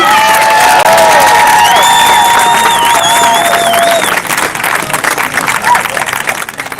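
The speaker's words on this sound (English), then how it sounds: "So round of applause to all of you, okay?" Loud crowd at a PPC political rally in Southern Ontario cheering and applauding, with whistles and shouts rising over dense clapping that thins toward the end.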